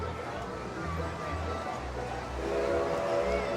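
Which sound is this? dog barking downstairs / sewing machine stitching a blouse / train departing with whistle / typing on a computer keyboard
train departing with whistle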